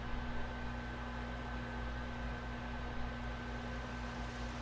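A steady, dense hiss of heavy rain from a Dreams game sound effect plays evenly throughout, close and unbroken, with no voices.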